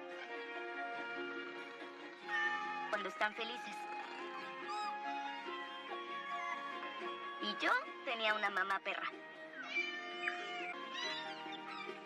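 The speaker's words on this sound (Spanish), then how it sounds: "Mi primer hogar estaba lleno de gatos." Several cats meow repeatedly in a film scene, high wavering cries overlapping one another, continuous and fairly close, with a narrator talking over them.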